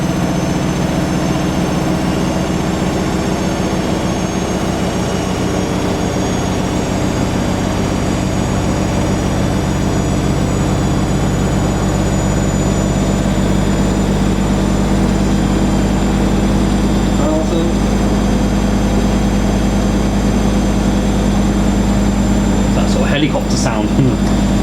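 Siemens IQ300 washer dryer spinning at high speed on a cottons 60°C cycle, a loud steady whirring drone with resonant hum through surrounding cabinets, a few faint clicks near the end.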